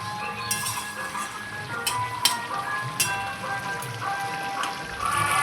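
Cauliflower and potato curry simmering in a pan, a steady low sizzle with soft bubbling pops and occasional small clinks, moderately close and continuous, with no talk.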